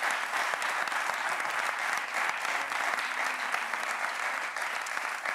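Sustained applause from a studio audience on a Spanish late-night talk show, steady and full throughout with no pause.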